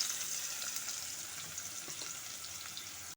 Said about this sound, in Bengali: ওই তেলের মধ্যে আমি পেঁয়াজ কুচি দিয়ে দিচ্ছি।